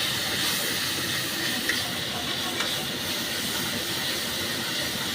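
Ginger paste and a little garlic sautéing in oil for a pointed gourd curry, a steady broad hiss with a faint crackle, close and even throughout.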